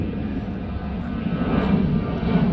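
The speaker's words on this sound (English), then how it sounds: "And wait till that plane gets out of here." A propeller or jet airplane passes overhead outdoors beside a parked 2000 Ford E450 camper van conversion, a steady broad engine rumble and roar that swells slightly toward the end, with no voices.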